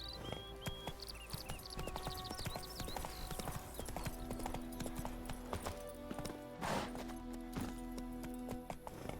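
Horse hooves clip-clopping steadily in The Witcher 3, a continuous rhythmic trot up close, with a brief whinny-like burst midway over layered game ambience and music.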